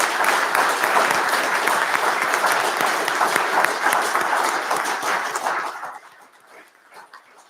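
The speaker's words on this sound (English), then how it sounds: "Let's give one last round of applause to all our recipients today." A crowd at a Government House investiture ceremony applauds the award recipients, with sustained, dense clapping for about five seconds that fades away, leaving only a few scattered claps at the end.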